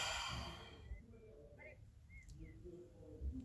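A deep exhale during a breathing exercise in a laughter yoga session, a soft breathy sigh at the start that fades, heard close and quiet against faint background noise.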